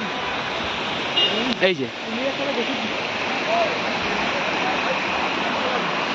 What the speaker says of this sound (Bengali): এখান থেকে জলটা বেরিয়ে ওই ব্রিজটা নিচ থেকে বেরিয়ে যাচ্ছে।